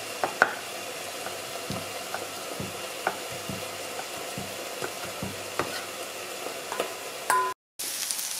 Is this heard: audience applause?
no